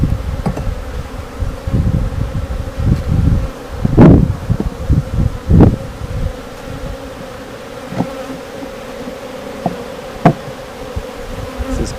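Honeybee swarm buzzing steadily at a swarm trap outdoors, a continuous close insect drone with a few louder bumps and knocks over it, no voices.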